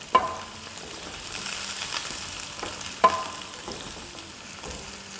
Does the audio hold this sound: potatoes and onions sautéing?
yes